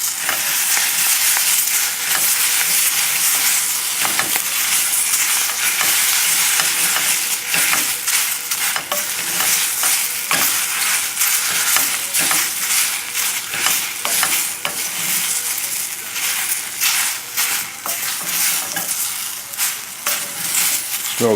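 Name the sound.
lamb shanks frying in a pot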